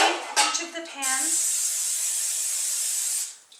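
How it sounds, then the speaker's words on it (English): Cooking spray hissing onto baking pans while making sweetened condensed milk bread, a steady close hiss of about two seconds after a few brief spoken words. "I'm going to just spray each of the pans."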